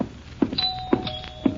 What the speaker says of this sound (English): I answered the doorbell, madam.